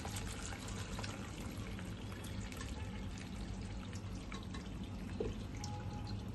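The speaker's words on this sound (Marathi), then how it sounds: "आता आपण हा पास्ता पाण्यातून काढून घेऊ आणि गाळणीने गाळून घेऊ" Boiled pasta and its cooking water pour through a strainer in a home kitchen, a soft, steady rush of draining water that stays fairly faint throughout.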